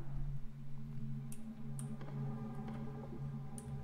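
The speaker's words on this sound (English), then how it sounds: "I'm sorry if you can hear my keyboard." Mechanical keyboard being typed on, a string of light, sharp key clicks at an uneven pace, faint and close over a low background hum.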